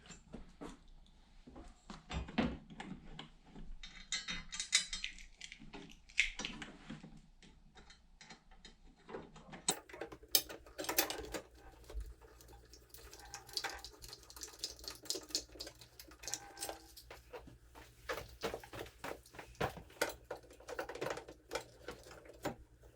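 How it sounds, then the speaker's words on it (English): Bolts and fender washers being tightened on a front strut bar of a Honda Fit GK5: irregular close metallic clicks and ratcheting taps, steady through the stretch, with no voices. "we're just going to bolt this down with the 10mm fender washer again"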